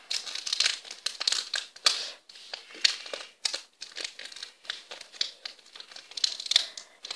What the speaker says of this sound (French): Donc c'est parti pour le dernier booster pack. Si j'arrive à l'ouvrir, bien sûr.